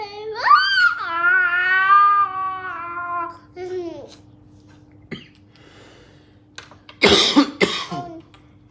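Coughing: a few short, harsh bursts near the end, after a long wailing, crying-like voice and a brief quiet stretch.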